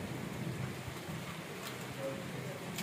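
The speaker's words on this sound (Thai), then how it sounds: "แต่เมื่อวานมาได้ฝนนี่ฝนยังไม่หยุดเลย" Heavy rain pours down steadily as a dense, close wash, with a few brief, sharp cracks that may be thunder or drops hitting a surface. The level stays fairly quiet and constant, and there is no clear speech.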